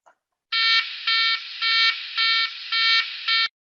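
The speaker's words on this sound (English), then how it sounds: "This is what a loss of cabin pressure warning sounds like." An aircraft cabin-pressure-loss warning sounds as six bright, harsh electronic beeps in an even rhythm, loud and close, with no speech over it.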